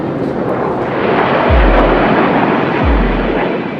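Military jets roar overhead at the Royal International Air Tattoo at RAF Fairford, a loud sustained broadband rush with two deep low booms as aircraft pass, no voices.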